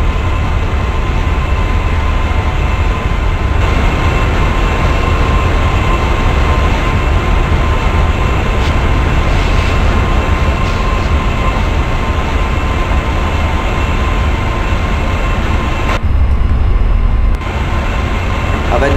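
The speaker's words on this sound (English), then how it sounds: "So let's speed up the train." Indian express passenger train in a railway simulator game, running along the track as a steady, loud rumble of wheels and engine with continuous rolling noise, briefly dipping near the end.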